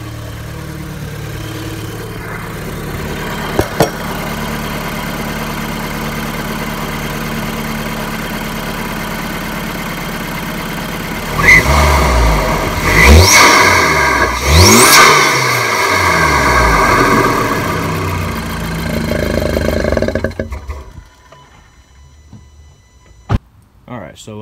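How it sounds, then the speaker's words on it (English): An APR-tuned Volkswagen GTI with a USP 3-inch downpipe and AWE catback exhaust idles steadily, then revs hard several times with loud intake roar before settling and cutting off; brief talk is heard. "now I'm going to show you the intake and how it pulls and how it sounds"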